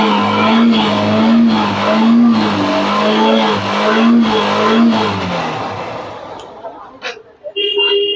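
A Yamaha FZ V3 motorcycle with 79,000 km on it idles and revs nearby, a steady loud engine drone with a pulsing tone for about six seconds before cutting off, followed by a few faint clicks and a short tonal beep.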